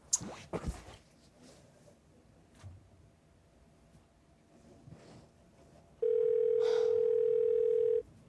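A steady telephone dial tone sounds loud and unbroken for about two seconds near the end, following faint room ambience and a few soft handling clicks during a call being placed.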